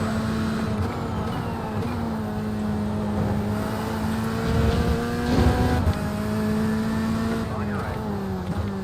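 Race car engine in a racing game, a loud sustained whine climbing and bouncing off the rev limiter with shifting pitch and a surge in the middle, voices talking over it.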